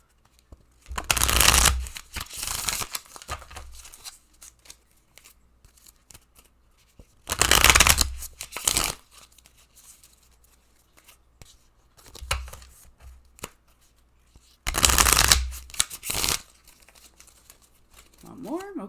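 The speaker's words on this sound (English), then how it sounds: "So I'm gonna shuffle." A deck of Love Oracle cards shuffled by hand in three distinct bursts of riffling and flapping, each a couple of seconds long, with quieter handling noise between them and a brief voice near the end.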